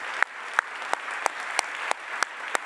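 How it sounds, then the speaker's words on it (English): Audience applause at a research talk on tackling malaria, heard as a sparse, steady run of sharp individual claps repeating about three times a second, moderately loud with no voices. "So do please give them another round of applause."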